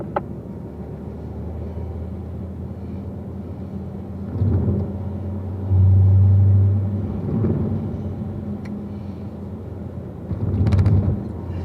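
A race car accelerates down the straightaway at Spring Mountain track, its engine a steady low rumble that swells louder toward the middle and again near the end, with no talking.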